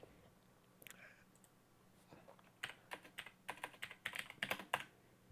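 Computer keyboard typing, at first sparse and hesitant, then a quick run of rapid key clicks that grows louder toward the end, close and clear, with no talking.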